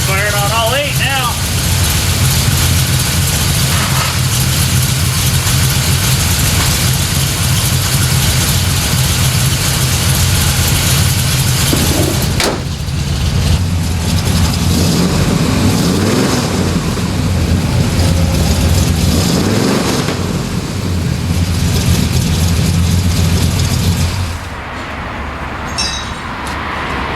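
A faded red Chevy C10 V8 runs at a steady low rumble, close and loud throughout the clip, with a brief interruption partway through and occasional clinks.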